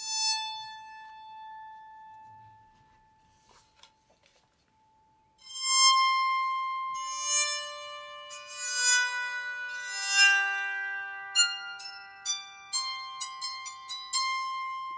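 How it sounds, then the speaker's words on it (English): A psaltery bowed with its own bow rings out in clear, sustained, bell-like tones, starting with a long held note, then a faint pause before a flowing run of overlapping notes that grow shorter and quicker toward the end. "It's called a psaltery, Psaltery, and the psaltery is also a bowed instrument."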